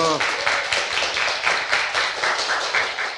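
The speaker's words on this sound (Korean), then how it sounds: "박수!" Studio audience applause during a Korean talk-show segment, rhythmic, evenly pulsing clapping from a group that starts right after a short voice and continues steadily at moderate loudness.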